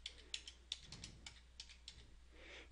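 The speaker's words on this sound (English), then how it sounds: "I'm going to type in the IP address" Quiet keyboard typing entering an IP address on a computer, with light irregular clicks and a few sharper keystrokes spread across a few seconds, and no talking.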